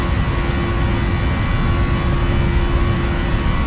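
Boeing 737 jet engines spool up for takeoff in the PMDG flight simulator, a loud, steady roar with a constant high whine running through it, unbroken throughout.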